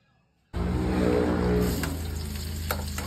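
Onions and garlic sautéing in a hot pan: a loud, dense sizzle that bursts in abruptly after a brief quiet moment and holds steady, with a few stirring scrapes toward the end.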